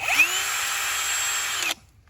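A Keyang power drill whines at high, steady speed while boring into a metal sheet, a close and loud continuous drone lasting under two seconds before it cuts off abruptly.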